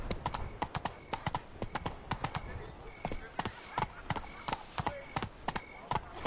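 Roach's hooves pound in a steady, fast rhythm of sharp, close hoofbeats as the horse gallops through a video game, with no voices over them.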